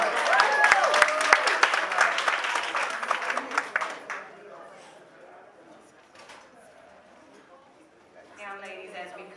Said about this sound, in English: Let's clap it up for our Black businesses that gave us these gift cards.